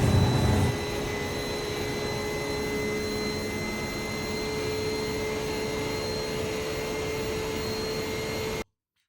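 A Porsche 911 GT3 engine held at full throttle in a racing simulator at Watkins Glen, a constant high droning whine with no variation that cuts off abruptly just before the end.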